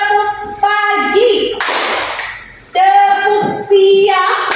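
Classroom of pupils clapping a rhythmic call-and-response pattern, a dense burst of many hands in the middle between stretches of a teacher's sung, chanting voice.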